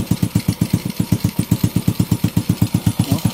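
A freshly overhauled Honda Wave 125 motorcycle engine idles close by with a fast, even, low putter of regular pulses running without a break.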